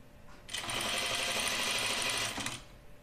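A sewing machine runs steadily for about two seconds, stitching a seam on a Kielo wrap dress, starting and stopping cleanly, with a faint whirring texture and no talking.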